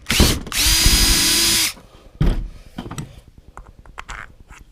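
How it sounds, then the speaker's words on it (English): A power drill whines steadily for over a second as it drills holes for casters on a jet ski dolly, then a second shorter burst follows, with clicks and handling noises after. "let's go ahead and drill for the casters"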